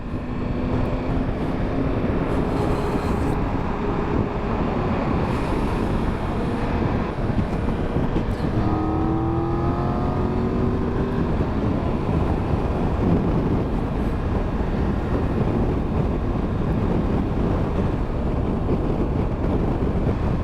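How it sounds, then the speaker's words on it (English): Strong wind buffeting a rider on a motorcycle on a Danish motorway, a constant loud roaring rumble with engine and road noise blended in, no talking. "I can't believe how windy Denmark is. It's very windy."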